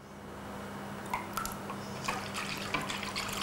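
Small liquid drips and trickles as drops of rose water are added to yogurt in a kitchen, a few light splashes scattered over a low steady hum.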